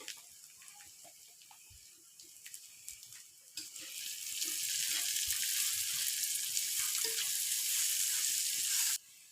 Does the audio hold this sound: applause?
no